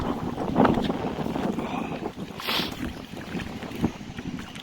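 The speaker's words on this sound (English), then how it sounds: "Some of the gusts coming across are quite savage." Strong Storm Ciara wind gusts batter the microphone at a carp-fishing lakeside, making a steady rushing roar that surges and fades in buffeting waves.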